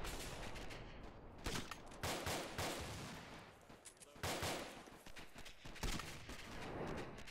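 Sustained rifle and machine-gun fire pours onto an enemy vehicle convoy in the Arma 2 military game, with dense overlapping bursts and repeated volleys throughout, now and then a voice in the background.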